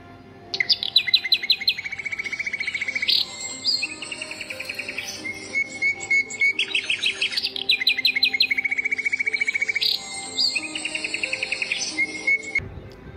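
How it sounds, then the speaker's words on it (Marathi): Birds chirping in the morning outdoors, repeated bright trilling song phrases in loud rhythmic bursts close by, with a steady insect-like buzz beneath and no voices. "सकाळ सकाळ पक्ष्यांच्या किलबिलाट"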